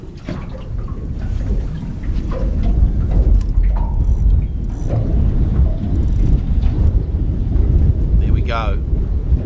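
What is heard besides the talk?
wind gust over anchored boat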